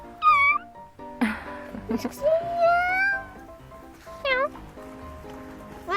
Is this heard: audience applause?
no